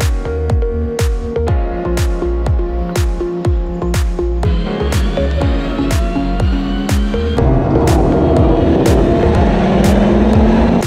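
Lamera Cup race cars roar at the start of an endurance race at Jerez, engines droning loudly with rapid repeated pulses and rising gear changes, then a denser, swelling wash of noise as the pack accelerates away.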